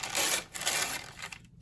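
A paper trimmer slices through paper with a close, brief scraping swish that fades out.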